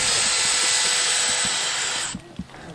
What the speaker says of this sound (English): just find a hole and drill right